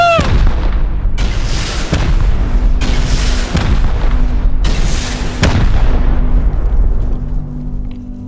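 Rocket explosions in the video game Rust, a series of four or five heavy booms at roughly one-second intervals, loud and near, each with a rumbling tail, a low hum underneath.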